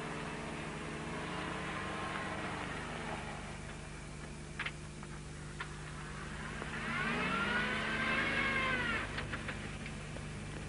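A Land Rover engine hums during off-road driver training. Its revs rise and fall with gear changes, swelling to a louder, higher whine late on, with a few faint knocks and clicks in between.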